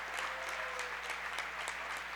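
A home crowd at a boys' high school sectional basketball game applauds a player, steady even clapping filling the gym at moderate distance, with faint crowd murmur.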